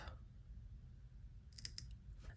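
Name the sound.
snipping bead thread with a cutter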